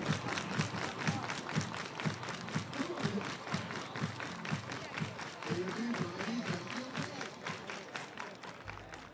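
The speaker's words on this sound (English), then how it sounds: "Everybody clap your hands." Baseball crowd at a Portland Pickles vs Corvallis Knights game clapping in a steady rhythmic beat, many hands together at a moderate distance, with some crowd noise and voices mixed in.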